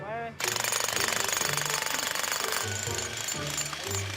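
Jackhammer breaking concrete at a home worksite, loud rapid hammering bursts starting after a brief pause and continuing in repeated stretches, with someone speaking over the noise.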